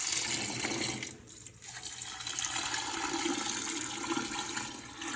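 Chicken broth pours steadily into a soup pot holding split peas and bay leaves, a loud continuous splashing gush that briefly thins before running on, with no talking.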